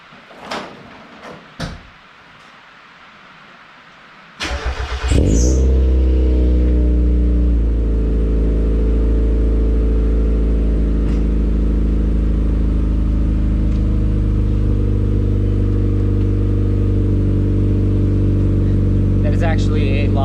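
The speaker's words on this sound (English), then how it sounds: "I'm gonna do a quick startup just with the resonator installed and see if it" A Mazda Miata NA engine starts with a Vibrant resonator installed: after a few quiet clicks and taps, the starter catches and the engine fires into a loud, steady, low idle that continues close up to the end.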